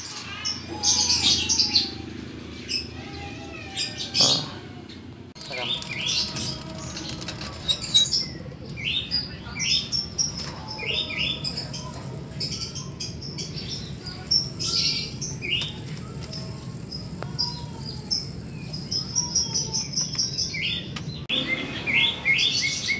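A zebra dove (perkutut) kept in a cage set out in the sun, with repeated high chirps and calls close by over a steady hum of background noise, with no talking.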